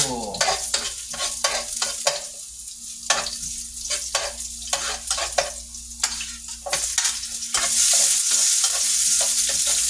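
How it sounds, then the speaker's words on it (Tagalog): Bitter gourd (ampalaya) frying in a pan, stirred with rapid, repeated spatula scrapes over steady sizzling, close up, louder and hissier toward the end, with no talking. "magluluto tayo ng ampalaya"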